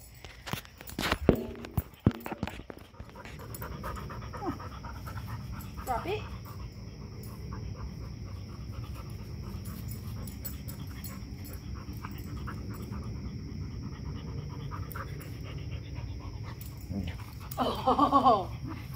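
A dog pants and moves about close by during an evening game of ball outdoors, a steady breathy rhythm running under a person's speech, with a few louder bumps and scuffs near the start and end.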